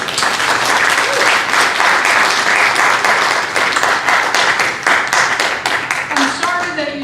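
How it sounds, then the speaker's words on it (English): Applause from a high school graduation audience, a dense wash of many hands clapping steadily for about seven seconds, close and loud, with a few voices rising near the end. "Let's give them all one more round of applause"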